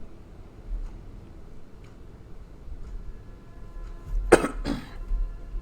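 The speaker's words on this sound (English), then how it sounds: "You've been coughing quite a lot today." Two sharp coughs from a person close by, bursting out loud one right after the other near the end of a quiet stretch of room noise.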